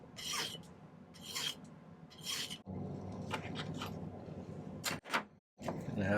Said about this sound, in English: We need to probably do a little cleanup filing.